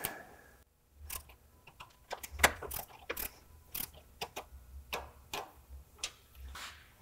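Bolts being tightened on the feed auger of a MacDon FD2 FlexDraper combine header, heard as a quiet run of sharp metallic ratchet clicks and ticks in irregular bursts, close by with no talking.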